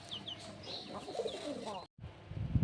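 Pigeons on a farm coo softly alongside other bird calls, followed by a brief cut to louder low rumbling noise, with no speech.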